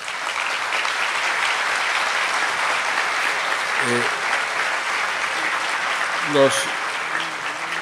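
Sustained applause from a large crowd fills the whole stretch, steady and dense, with a brief voice or whistle rising over it near the end.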